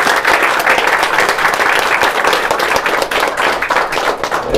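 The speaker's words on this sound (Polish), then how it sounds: "Wielkie brawa dla niego." Loud, dense applause from a crowd at a gaming tournament, continuous clapping filling the whole stretch without pause.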